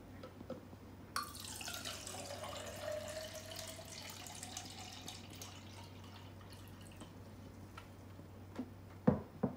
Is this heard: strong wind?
no